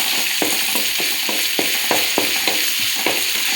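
Onions and curry leaves fry in oil in a kadai, a strong close sizzle punctuated by a regular rhythm of spatula scrapes and stirs about every third of a second, with no talk.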